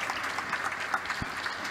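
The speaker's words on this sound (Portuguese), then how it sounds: "aplauso para Thomas Lynch." Brief burst of audience applause for a speaker at a technical talk, a steady, moderately loud patter of many hands clapping with no voices over it.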